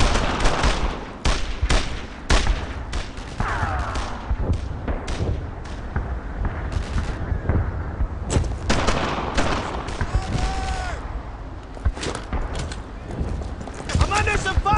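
Rapid bursts of gunfire ring out in the World War II shooter Brothers in Arms 2, sharp cracks and volleys scattered across a chaotic battle with soldiers shouting over them.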